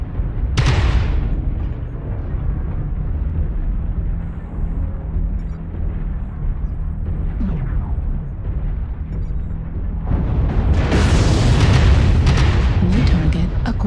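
Missile explosions boom in MechWarrior Online combat, a sharp blast at the start followed by rumbling impacts and a louder burst of crackling explosions near the end, with low mech rumble underneath throughout.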